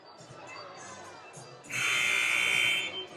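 A loud, steady electronic buzzer sounds for about a second and a half during a timeout at a girls' varsity high school basketball game, over crowd murmur and talk in the gym.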